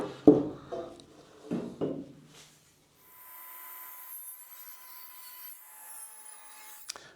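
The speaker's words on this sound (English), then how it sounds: "So we'll take these onto the circular saw again." Circular saw ripping 35 mm hardwood strips for a chevron end-grain cutting board: a few knocks and handling thumps, then a steady, moderately loud cutting whine for about four seconds, ending with a sharp click.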